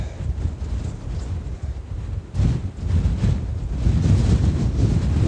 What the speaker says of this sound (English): Whoa, that's windy.